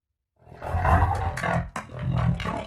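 A Warper creature from the video game Subnautica gives a loud, growling roar with rasping, guttural layers and a brief break midway, close and menacing, with no speech.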